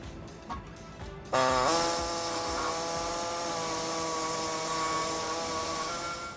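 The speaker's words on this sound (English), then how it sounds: "What I'll be using is a air saw to notch out the sides on the hole there" An air saw cuts into the steel frame of a 2013 Ram 1500 pickup during a trailer hitch installation, starting abruptly with a loud, steady, high-pitched whine that runs close and continuous without talk.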